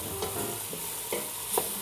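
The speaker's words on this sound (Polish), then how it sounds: "Trzeba to przemieszać, żeby się to równomiernie rozeszło po wnętrzu garnka." Ingredients and fresh bay leaves are stirred in a pot over the heat, giving a constant sizzle with a few distinct scraping strokes of the spoon, close up and with no talking.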